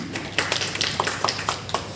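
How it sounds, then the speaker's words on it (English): A few hands at a small Toastmasters club meeting clap sparsely, a handful of distinct, irregular claps spaced over a couple of seconds, light and close in a quiet room. "Good round of applause"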